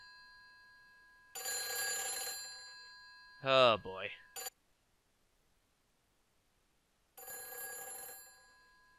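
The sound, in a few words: telephone ringing in the video game Silent Hill 3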